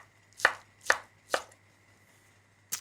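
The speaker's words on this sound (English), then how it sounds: "I love streaky bacon because it has that perfect ratio of fat to meat, and we're just going to cut this up into small pieces" A knife chops streaky bacon into small pieces on a board, three sharp evenly spaced strikes followed by a pause and a fourth, close and distinct with no talking.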